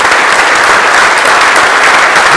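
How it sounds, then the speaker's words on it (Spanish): Dense, steady applause from an audience at a business association swearing-in ceremony in Tapachula, filling the whole stretch loudly with no voices over it. "Muchas felicidades, un fuerte aplauso para cada uno de ellos"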